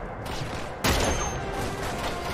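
Gunfire in the video game Uncharted 2, a monastery level, with a burst of shots and a sharp loud blast partway through, followed by continuing rattling fire and echoing noise.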